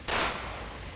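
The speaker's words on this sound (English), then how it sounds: "Oh, I hear gunfire" Gunfire in the video game Resident Evil 6, a short loud burst of shots in the first fraction of a second that fades into a rumbling tail.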